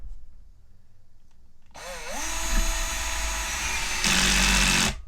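A cordless power drill driving a screw into wood, the motor whirring steadily before the clutch engages near the end with a louder, ratcheting rise, close and loud with no talk.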